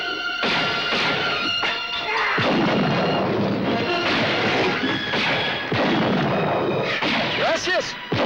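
Gunfire in a western film, a dense scene of repeated bangs and thuds under music and effects, loud and continuous, with a voice near the end.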